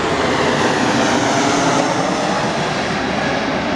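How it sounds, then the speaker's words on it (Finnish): An airplane lands at Alta airport in Norway, passing overhead with a loud, sustained engine roar that stays strong and close throughout, with no talking over it. "Kippas kappas kun osuikin sinne laskeutuu just lentokone."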